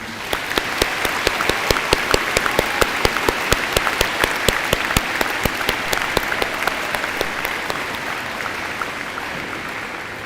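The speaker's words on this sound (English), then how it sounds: "One more time, can we get a round of applause for our veterans?" Sustained audience applause honoring veterans at a high school Veterans Day program, steady dense clapping throughout with sharp individual claps standing out, fairly loud and close.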